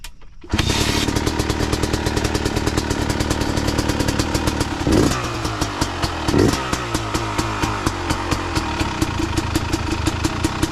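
A 2022 Yamaha YZ250X dirt bike fitted with electric start fires up and keeps running: a loud, close two-stroke engine catches and settles into a steady idle, with a couple of brief throttle blips.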